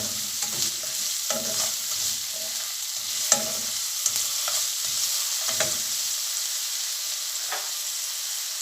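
Onions stir fried for chicken wing noodles, a soft background sizzle broken by a series of quick scraping and tossing strokes in the first half, then a quieter steady fry, no voices.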